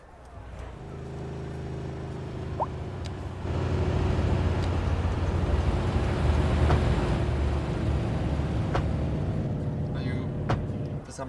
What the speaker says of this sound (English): here come all the garbage trucks